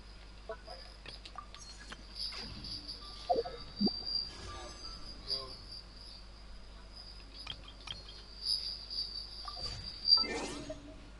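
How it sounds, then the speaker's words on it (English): Crickets chirp in a steady high-pitched trill through the background, faint and continuous, with scattered clicks and brief soft noises over it. "Turn off the cricket."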